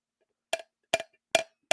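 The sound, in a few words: screwdriver tapping solid fiberglass boat gel coat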